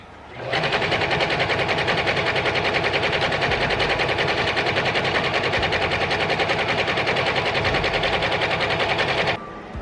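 A sewing machine runs a short-stitch hem on linen waffle-weave cloth, a steady, loud, rapid mechanical rattle that holds for about nine seconds before stopping.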